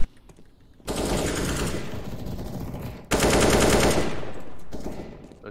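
Two loud bursts of automatic gunfire in Counter-Strike: Global Offensive, each a rapid close-range rattle lasting a couple of seconds, separated by an abrupt gap.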